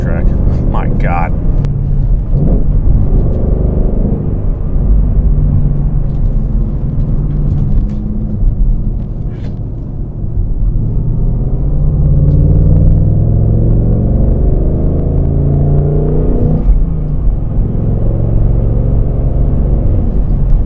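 A 2019 Ford Mustang Bullitt gives a deep, continuous engine and exhaust rumble, loud and steady with slight swells, while someone talks over it.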